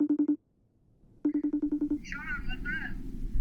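A phone number is dialed on a telephone keypad as a quick run of loud, evenly spaced tone beeps. A short group comes first, then after a pause a longer burst, and ringing or line noise with a faint voice follows.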